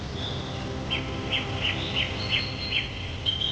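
Small birds chirp and tweet high in Amazon rainforest treetops, a series of short bright calls about every half second over a soft steady forest hiss, moderately distant and fairly quiet.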